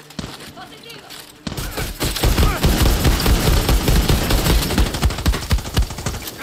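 Dense, rapid armor-piercing gunfire in Far Cry 6, opening with a brief quieter stretch before a loud, sustained burst of rattling automatic shots that runs to the end.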